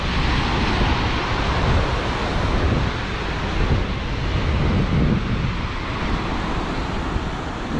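Steady, dense wash of waves in the bay at Cartagena, Colombia, loud and continuous with heavy wind buffeting the microphone and no talk.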